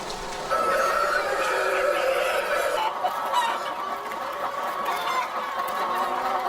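Hens clucking steadily with a rooster crowing among them on an egg-laying farm, a dense, continuous chorus of overlapping fowl calls close by, with no talk.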